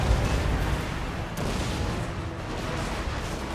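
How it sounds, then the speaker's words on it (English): Dwarf cannons fire on Night Goblin formations in a Total War: Warhammer 2 battle, a continuous heavy rumble of booming artillery with one sharper crack partway through, loud and dense throughout. "the cannons started to open fire at the enemy formations"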